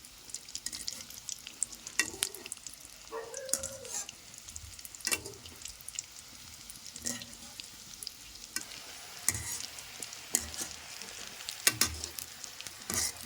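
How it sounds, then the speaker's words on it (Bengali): Lollipops of egg and gram flour deep-fry in oil over a low flame. A continuous close sizzle is broken by repeated scraping and clinking strokes of a stirring utensil. "ললিপপগুলো কি সুন্দর ভাজা হয়ে গেছে"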